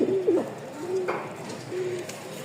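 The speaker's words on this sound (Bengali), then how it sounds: "এই দেখেন দুইটা নরের ডাক দেখায় আপনাকে। এটার ডাক দেখেন আগে" Male Lahori pigeons give a few soft, low coos in short phrases, close by and fairly quiet.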